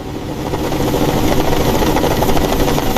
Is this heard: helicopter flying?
yes